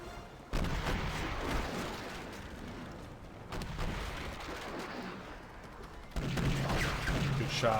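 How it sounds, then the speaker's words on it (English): Ship cannons boom in a Pirates of the Burning Sea naval battle, heavy rolling volleys arriving in several bursts with rumbling tails, a voice speaking over parts of it. "See, I'm taking fire from my own ship."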